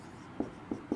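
A pen writes a maths formula by hand in three brief, faint scratching strokes, quiet and close, with no talking.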